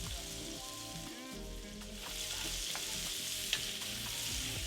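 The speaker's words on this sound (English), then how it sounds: "See how fast we're gonna cook them, but maybe 2 or 3 minutes" Seafood seasoned with salt sears loudly in a hot pan for a surf-and-turf pasta, a steady close sizzle and crackle with a few stirring scrapes and no talking.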